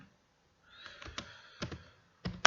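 Soft keyboard typing, a few scattered bursts of keystrokes with pauses between, close and fairly quiet.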